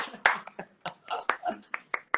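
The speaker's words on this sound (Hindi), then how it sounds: "ये तालियां हो जाए" Sparse handclaps during an Instagram live stream, about a dozen sharp, separate claps in an uneven rhythm, fairly quiet and close.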